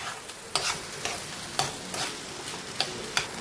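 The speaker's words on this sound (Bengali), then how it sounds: "চালটা দিয়ে ভালো করে মশলার সঙ্গে কষিয়ে নেব আমি।" Rice being stirred and fried with spices in a pot for khichuri, with a steady soft sizzle broken by periodic scraping strokes of a ladle, close and fairly quiet.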